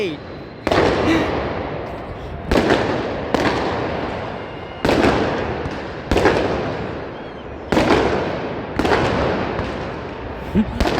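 Firecrackers burst in celebration of India's cricket win, about seven loud, sharp bangs spaced a second or two apart, each trailing off in crackle and echo, with voices faintly audible in between.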